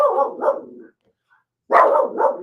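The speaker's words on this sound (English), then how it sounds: "but it's a dog barking outside." A dog barks outside in two loud, close bursts of rough barking separated by a short pause of silence.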